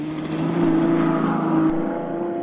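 Ferrari FF V12 engine at low, everyday revs, a steady, fairly flat drone that holds near-constant pitch for a couple of seconds, close and continuous with no talk.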